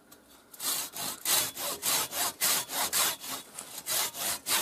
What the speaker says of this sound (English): after all that sawing action